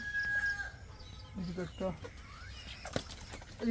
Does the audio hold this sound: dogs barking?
no